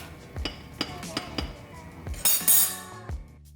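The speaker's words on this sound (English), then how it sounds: "let me grab a knife from over here and just level that on off" A metal knife scrapes and taps against a measuring cup of gluten-free flour as it is levelled off for dinner rolls, giving a string of close, sharp clinks with one brighter scrape, and no talking.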